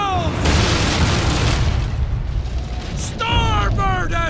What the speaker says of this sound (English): Cannons! Brace yourselves!